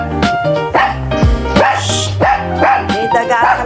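Several dogs bark repeatedly outdoors at a rat, loud and close, with overlapping sharp barks and yips coming in an uneven rhythm.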